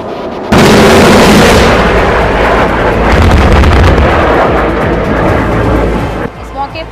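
Loud, sustained rumbling gunfire and blasts from Su-30 MKI jets and Mi-35 and Mi-17 helicopters during joint Indian and Russian air force firing practice, a heavy roar that starts abruptly and holds for several seconds before easing.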